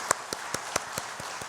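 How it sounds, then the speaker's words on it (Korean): A church congregation applauds its choir with a faint, steady run of evenly spaced claps, sounding distant and thin rather than a full roar. "우리 격려와 축복의 박수로 우리 아하찬양대를 축복하면 좋겠습니다"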